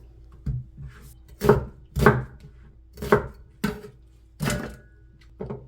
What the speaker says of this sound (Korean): 양파 반 개를 썰어서 갈을 거예요.